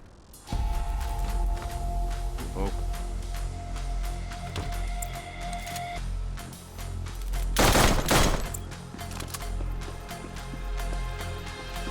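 Sustained machine gun fire in the Intravenous 2 video game, a loud steady rattle lasting several seconds with a sharper, louder burst midway, no talking over it.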